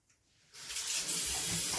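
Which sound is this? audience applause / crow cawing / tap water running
tap water running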